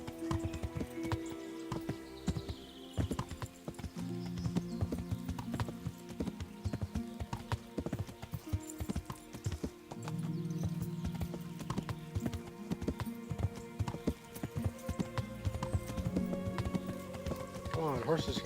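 Horse hooves clip-clop steadily in the Kingdom Come: Deliverance video game as a rider climbs uphill on horseback, a quiet rhythmic clatter under someone talking over the gameplay.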